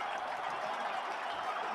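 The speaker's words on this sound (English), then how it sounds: "And the crowd here at Ohio State loving it." Stadium crowd at Ohio State during a Michigan versus Ohio State football game, a faint, distant and steady roar of cheering with no break.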